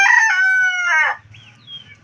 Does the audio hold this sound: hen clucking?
yes